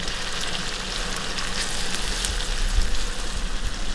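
Minced vegetables fry in hot butter in a pan, giving a steady close crackling sizzle with no talk over it.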